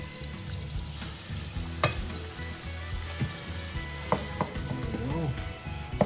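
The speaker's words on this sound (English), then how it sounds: "Now the pan is hot, we'll throw in the shrimp, cook for 2 minutes." Shrimp sizzle in a hot buttered pan over medium heat, a steady close frying hiss with scattered pops and the clatter of utensils; no voices over it.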